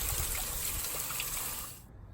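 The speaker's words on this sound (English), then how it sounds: "In the unit, you can see the water actually coming through the coil, and that's how you know that you're actually clearing out that pollen." Water trickles and splashes steadily through the coil of an outdoor AC unit as it is rinsed clean of pollen, a close, continuous wash of sound that fades near the end.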